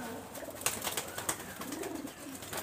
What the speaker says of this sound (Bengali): দুটো পাবাজি কবুতর